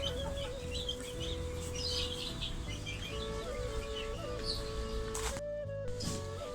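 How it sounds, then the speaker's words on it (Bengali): Chickens cluck inside a chicken coop on a windy morning, soft repeated calls over a steady background hum, fairly close and without any talking. "এখানে মুরগি রাখা হয়েছে।"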